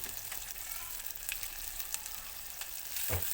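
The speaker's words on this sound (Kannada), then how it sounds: "ನೆಕ್ಸ್ಟ್ ಈರುಳ್ಳಿನ ಹಾಕ್ಕೊತಿದ್ದೀನಿ. ಎಲ್ಲ ನೀಟಾಗಿ ಮಿಕ್ಸ್ ಮಾಡಬೇಕು." Onions added to a tempering with curry leaves in a pan for a village-style yogurt dish, sizzling steadily while being mixed, with a few faint stirring scrapes throughout.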